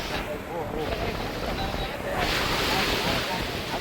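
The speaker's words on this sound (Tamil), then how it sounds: "அவ்வளோதுக்கு வந்து காற்று அதிகமாக இருக்கிறத வந்து பார்க்கக்கூடியா இருக்குது" Strong wind buffets the microphone at sea beside a rocking boat, a constant roaring gust with surf washing underneath, rising louder toward the end.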